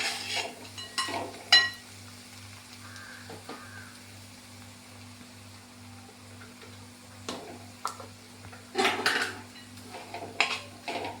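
Spoon scraping and clinking against a pan while stirring coriander and chili powder for a prawn roast, intermittent metallic scrapes over a low steady hum, fairly quiet.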